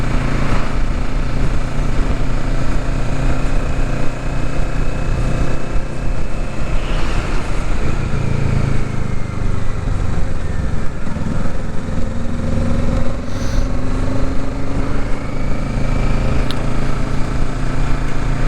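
A 2023 Kawasaki Ninja 650 being ridden, its engine droning loud and steady from close up with constant wind rush, the pitch rising and falling slightly through the ride.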